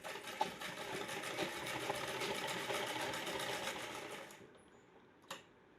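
A sewing machine stitching a plain frock runs in one steady, fast whirring stretch for about four seconds, then stops, followed by a single soft click.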